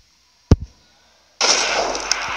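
A single sharp gunshot bang in the mobile hunting game Deer Hunter 2016, with a short decay, then after a pause a steady burst of loud, noisy game sound effects continues to the end.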